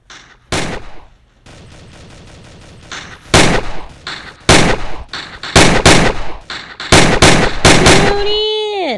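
Bursts of gunfire crack out in a multiplayer shooter video game, single loud shots and rapid volleys spread irregularly across the scene, ending in a rising whine of tones.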